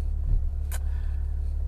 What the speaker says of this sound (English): the worst part about filming within a car is, well, in our experience, is the road noise that you get from the tires.